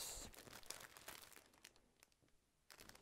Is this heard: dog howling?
no